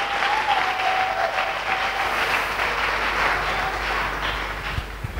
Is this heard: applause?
yes